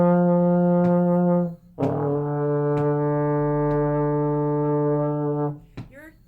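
A trombone plays two long sustained notes, F then D, each held for about four counts, clear and close, with a short break between them and no voice.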